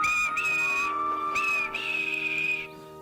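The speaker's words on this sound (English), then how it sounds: "And he blew his whistle." A steam locomotive whistle, from a children's story about a tank engine, blows in two long sustained tones separated by a short gap, loud and close, alone without talk.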